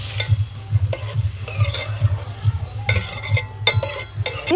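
Chicken liver and gizzard pieces are stirred through hot oil in a pan, a steady close sizzle broken by repeated scraping and clinking of the spoon against the pan in an uneven rhythm, with no voices.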